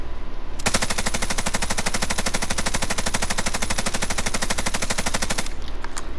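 A PKM machine gun fires in a video game: one loud, sustained automatic burst of tightly spaced shots lasting about five seconds, alone and close, then it stops abruptly.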